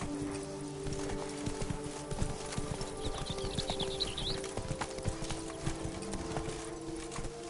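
A horse gallops in The Witcher 3, fast, steady hoofbeats pounding close by, with a brief whinny-like squeal partway through and no talk over it.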